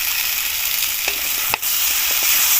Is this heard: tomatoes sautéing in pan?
yes